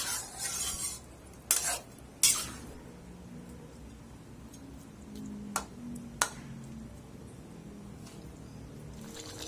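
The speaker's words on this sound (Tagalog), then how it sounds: "Haluin lang natin yan mabuti at continue lang natin sa pagluluto until" Menudo sauce being stirred in a pot, soft low simmering and scraping with a few sharp clinks of a utensil against the metal rim, fairly quiet and without talk.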